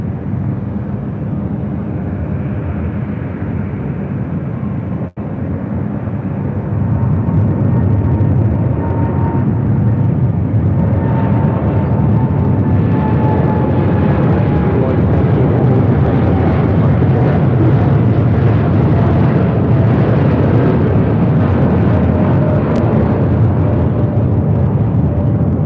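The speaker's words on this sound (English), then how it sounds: "Do you see that Fiji A350 in line for takeoff on the north side?" Fiji Airways Airbus A350 jet taking off at LAX, a loud steady engine roar building and holding with rising whine tones, continuous and close, with no talking.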